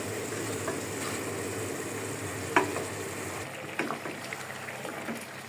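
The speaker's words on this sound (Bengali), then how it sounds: "এখন দিয়ে দিচ্ছি পরিষ্কার করে ধুয়ে রাখা মাছ।" Cleaned fish going into a hot pan with two tomatoes and spices, a steady close sizzle and frying hiss with brief clatters and stirring knocks.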